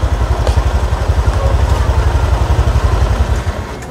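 A Honda Click scooter engine fitted with an LKGPS tracker idles with a loud, close, rapid pulsing chug that runs steadily, then drops away at the end as the tracker cuts the engine off.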